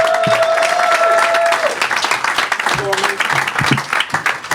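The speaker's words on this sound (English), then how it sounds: "applause going for the next act of the stage, Iain Pringle, everybody!" Comedy club crowd in Liverpool clapping and cheering to welcome comedian Iain Pringle onto the stage, a loud dense wash of applause with a sustained tone early on and scattered voices mixed in.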